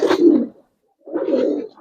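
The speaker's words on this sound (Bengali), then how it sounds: "এটা গোলা কবুতর ভাই, সেটা এটা ক্রস টোর দিয়ে বের করা" Giribaz and racer pigeons coo in a loft, two rolling, throaty phrases close by with a short silent gap between them and no talking.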